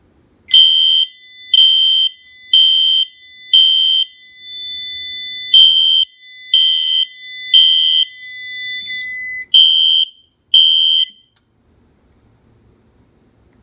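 A Notifier NFS-640 fire alarm system sounds after a smoke detector magnet test, giving about ten loud, evenly spaced electronic horn blasts in a steady pulsing rhythm that then cut off, leaving near silence.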